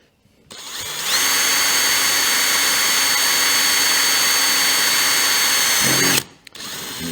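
A power drill cuts into the glass of a GBS Zero Gen 2 roof cover, spinning up to a loud, steady high-pitched whine that holds for several seconds, close and alone, then winds down and stops.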